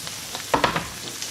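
Capsicum and spring onion fry in a pan: a low hiss broken by a quick burst of three stirring scrapes and clatters in the middle, close and fairly loud.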